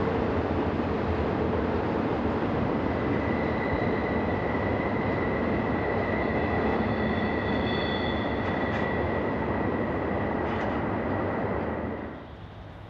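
A long freight stack train carrying shipping containers rolls past near the Mississippi in Minneapolis, a steady roar of wheels and cars with thin squealing tones, fading out abruptly at the end.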